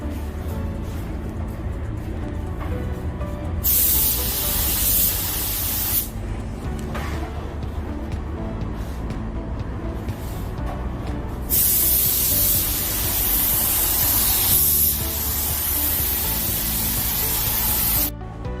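A spray gun hisses in long, close bursts with short pauses between passes, painting the roof of a Hyundai Ioniq, over a low, steady mechanical hum.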